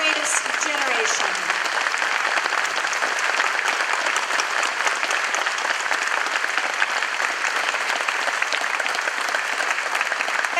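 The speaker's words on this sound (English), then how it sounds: "Let's give all of these heroes one more rousing applause for their service" Steady, dense applause from a crowd honoring veterans at an awards event at NAS Fort Worth, sustained clapping throughout with a brief voice at the start.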